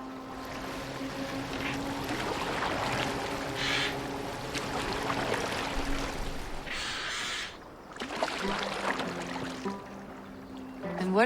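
Boat moving across water in Assassin's Creed Valhalla, a steady wash of water and hull sounds with low drones and game music, continuous and fairly loud with a brief dip near the end.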